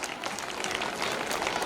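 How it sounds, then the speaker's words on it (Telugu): An audience applauds steadily at a school sports achievement ceremony, a dense, even patter of many hands clapping together at moderate distance throughout, with no pauses or voices standing out. "Once again big claps."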